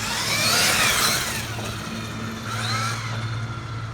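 Traxxas XMAXX 8S RC truck electric motor revving up under acceleration, a high whining rise and fall heard twice over a steady low drone, moderately loud and close with no talk.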